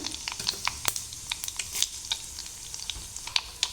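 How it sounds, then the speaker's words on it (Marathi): Crackling sizzle of cumin and mustard seeds in hot oil, with sharp irregular pops and spits scattered over a steady frying hiss, close and fairly loud. "फोडणी द्यायला सुरुवात करते। जिरी मोहरी टाकून घ्यायची सुरुवातीला।"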